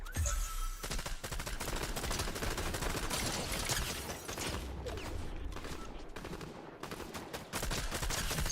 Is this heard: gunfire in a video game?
yes